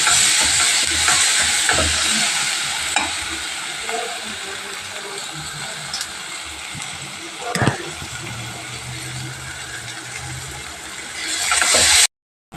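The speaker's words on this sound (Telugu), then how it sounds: "కొంచెం కారం, కొంచెం పసుపు, ఇవన్నీ బాగా మిక్స్ చేసుకుంటాం" Chili powder and turmeric being stirred into a pesara punukulu curry, heard as a continuous bright sizzle with a few spoon scrapes and knocks, close up, stopping abruptly at the end.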